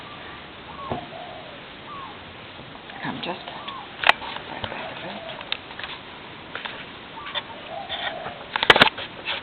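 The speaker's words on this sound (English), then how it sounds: "I don't know if you can hear the birds, but they're going crazy." Birds chirp and call in the background while a person talks, with scattered bright calls and a few sharper bursts near the end.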